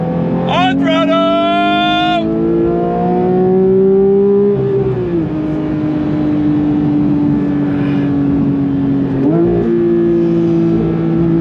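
A manual Porsche 992 911 GT3 Touring accelerates hard on throttle, engine pitch climbing sharply through a gear, then settling into a loud sustained drone with another shift near the end, close and dominant.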